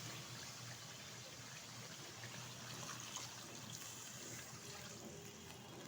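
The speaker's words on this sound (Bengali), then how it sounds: "তো এখন দিয়ে দেবো এর মধ্যে পরিমাণ মতো জল" Water poured from a pan or jug into a mustard hilsa fish curry in a home kitchen, a steady close trickle and splash running continuously without pause, with no talk.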